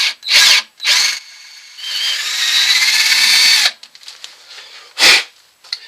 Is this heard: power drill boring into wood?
yes